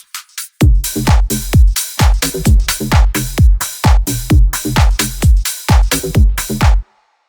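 A punchy synth sequence in FL Studio through a high-pass filter, repeated short notes with bright, thin tops and heavy low thumps, steady rhythm, loud and close, stopping abruptly.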